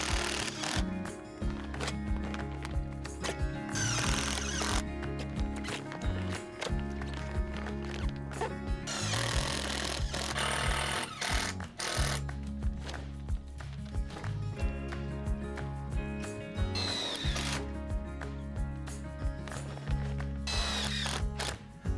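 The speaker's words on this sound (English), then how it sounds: "We'll screw through there and into the hoop on the very end wall." Power drill driving screws through split PVC capping into the end hoop of a 3.4 m home greenhouse, with repeated bursts of loud, close motor whine broken by short pauses across the whole stretch; no one speaks.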